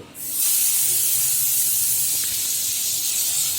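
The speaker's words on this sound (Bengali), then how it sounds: "আর ওইগুলির মতো আমি সবকটি ভেজে নিব" Slices of ash gourd fry in shallow oil, giving a loud, even hiss that builds quickly and holds steady, close and without any talking.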